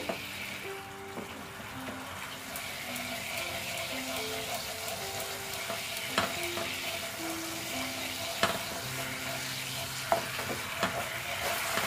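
Spices sizzling and being stir-fried in oil for a Bengali doi begun eggplant curry, a constant close frying hiss with stirring scrapes and a few sharp utensil clicks, no talk.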